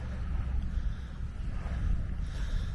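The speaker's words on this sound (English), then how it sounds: "Bit breezy today." Steady wind rushes and buffets the microphone beside a lake in Maine's Rangeley Lakes region, a continuous low roar with no talk.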